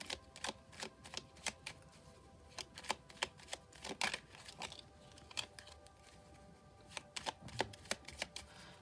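A Starseed tarot deck is shuffled by hand in a quiet room, making faint, rapid papery riffles and snaps in irregular bursts that repeat throughout.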